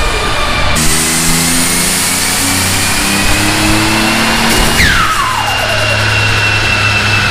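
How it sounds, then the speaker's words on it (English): Twin-turbo Mitsubishi 3000GT VR4 with a built 6G72 engine on a dyno: a loud, steady engine drone with harmonic tones, a sharp whooshing release around the middle as the blow-off valve vents, then renewed running, with no talk. "It may be the loudest blow off valve I've ever heard."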